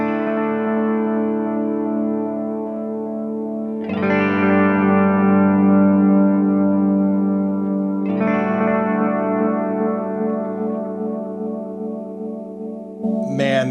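Electric guitar running through an Xvive V21 Echoman analog delay with modulation, sustained chords ringing out in three loud strums with a warbling, repeating echo tail filling the gaps.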